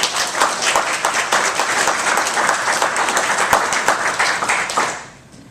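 Audience applause at a city State of the City event hosted by the Chamber, steady clapping from a large crowd that holds evenly before dying away at the end.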